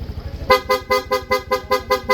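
An aftermarket PIA horn on a Yamaha Gravis scooter fires in rapid mode, a loud, close string of about eight sharp, evenly spaced honks after a moment of idle engine rumble.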